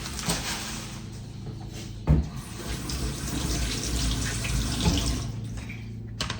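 A household tap runs steadily into a sink as something is rinsed under it, with splashes and a couple of soft knocks; close and fairly quiet, no talk.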